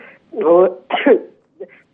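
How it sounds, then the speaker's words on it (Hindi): A man coughs and clears his throat twice in quick succession, close and dry, followed by a smaller catch of breath. "आपको बार बार खांसी आ रही है।"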